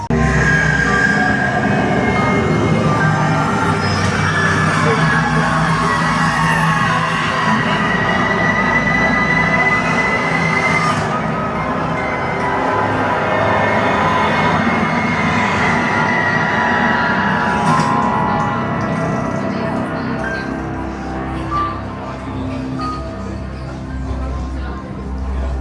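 The Curse at Alton Manor dark ride vehicle rolls along its track with a loud, continuous rumble and occasional metallic squeals that persist throughout, with no talking.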